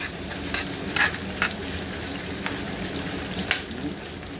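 Onion frying in a pan, a steady, close sizzle punctuated by a handful of brief stirring scrapes spaced unevenly through the sound.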